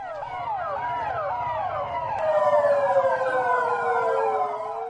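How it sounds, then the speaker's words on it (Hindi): Delhi Police cars drive past with wailing, rising-and-falling sirens, several overlapping, loud and continuous, growing somewhat louder partway through. "सायरन बजाती दिल्ली पुलिस की गाड़ियां दौड़ी"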